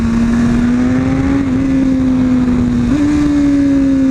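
A motorcycle engine drones loud and steady at high revs, its pitch climbing in two quick steps as the rider shifts hard.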